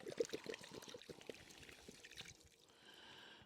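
A litre of water is poured into a two-part resin jointing grout mix, giving a close splashing and trickling pour with some drips that thins into a quieter stream toward the end.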